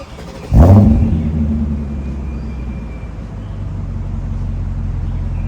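A BMW E39 540i V8 wagon engine roars loudly as it starts to rev, a sharp burst of throttle settling into a steady, deep rumble while driving.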